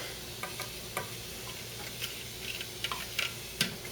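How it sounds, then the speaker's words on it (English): Zucchini stir frying in a hot pan, a soft low sizzle dotted with sharp irregular clicks and taps of a utensil against the pan, no one talking. "And we're going to let it stir fry a minute"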